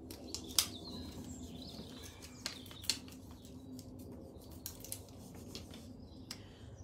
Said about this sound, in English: I've got loads of birds in the background